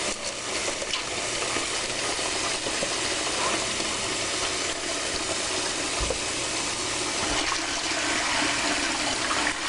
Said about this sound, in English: Now we're going to soak that with hot water